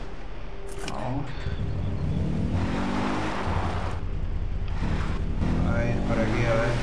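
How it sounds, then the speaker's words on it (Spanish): A motorbike ridden in the video game Far Cry 4 gives off a continuous engine drone with wind-like rushing that holds steady and fairly loud throughout, with a voice talking over it. "Vamos a ir en la moto esta."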